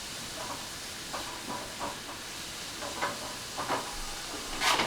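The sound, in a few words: stirring food in a pan over low flame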